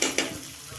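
Cashews and raisins fry in a pan, giving a soft, close sizzle with a couple of quick stirring scrapes at the start.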